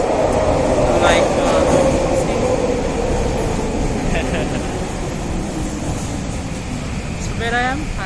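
A SkyTrain at Surrey Central station rumbles under a constant hiss, with squealing wheel or brake tones rising and falling, while someone talks nearby.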